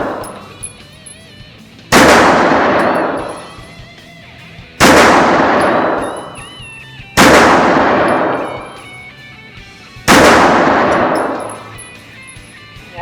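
Four loud, close handgun shots at an outdoor shooting range, evenly spaced about three seconds apart, each sharp crack followed by a ringing decay.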